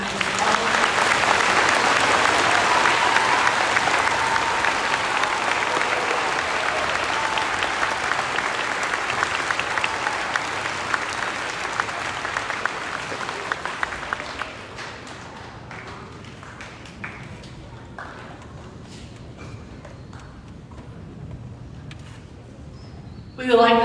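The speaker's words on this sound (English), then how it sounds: "Let's give our veterans a final round of applause" Sustained applause from a school assembly audience honoring veterans at a Veterans Day assembly, a dense roar of clapping that thins to scattered claps, then a brief louder sound at the end.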